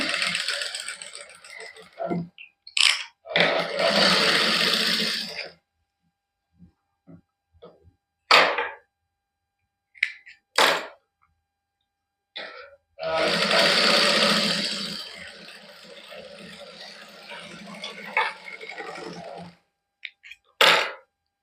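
Domestic sewing machine stitching a fine seam on fabric for a sleeve in a Punjabi boutique, running in two long bursts of several seconds each, with short clicks and handling noises between them and no talk.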